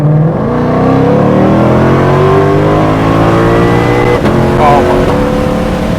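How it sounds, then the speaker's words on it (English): Supercharged Ford GT500 engine pulling hard through the gears, a loud, close roar climbing steadily in pitch with a brief dip around a shift before rising again, a voice faintly present underneath. "Going to do a little bit of a pull in the GT500."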